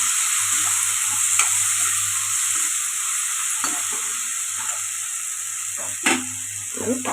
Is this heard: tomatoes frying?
yes